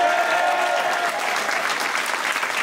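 Audience at a comedy club show in Liège applauding and cheering, a dense, steady wash of clapping and crowd noise sustained at full volume throughout, with no speech over it.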